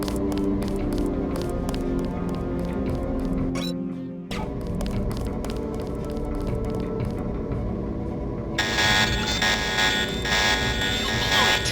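An alarm buzzer blares in the Deus Ex video game, a loud harsh pulsing tone repeating rapidly, briefly dropping out midway, then shifting to a brighter continuous rasp near the end.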